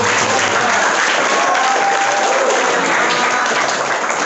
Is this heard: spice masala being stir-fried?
no